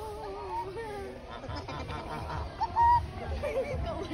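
Geese honking at a safari zoo, several calls rising over a busy crowd background with speech murmuring throughout, one louder honk standing out near the end.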